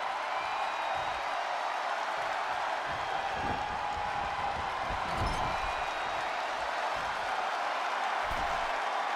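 Virtual wrestling arena crowd in WWE 2K20 roars in a steady, dense wash of cheering and clapping, with dull thumps from the ring breaking through the constant crowd noise throughout.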